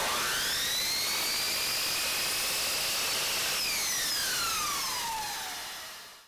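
A miter saw set to a 22.5 degree angle cuts through bullnose molding, giving a loud, steady high whine that drops in pitch as the blade spins down near the end.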